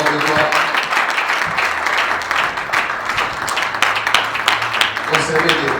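A church congregation applauds and cheers in praise, a dense, loud, continuous wash of clapping mixed with voices throughout.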